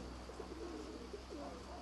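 A racing pigeon coos softly in a few low, rolling phrases over a steady background hum, faint and close.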